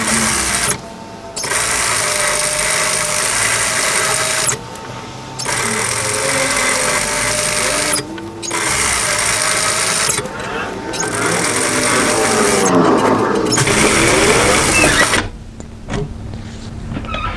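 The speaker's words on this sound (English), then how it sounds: "I'm going to sew a second row of stitching parallel to this first row" A sewing machine runs a second parallel row of stitching on a pleated maxi wrap dress, in loud, close, steady runs broken by several short pauses.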